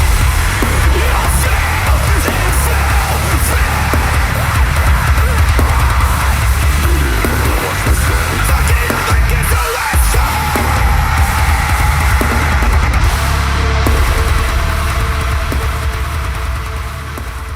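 Dense, loud mix from a debut record plays throughout, with a thick wall of distorted band sound and steady drums, no talking.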